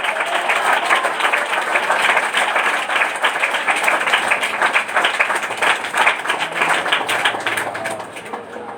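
Congregation clapping during a Bible sermon, a continuous crowd of hands clapping in a busy, fairly loud rhythm with no voices over it, tapering slightly near the end.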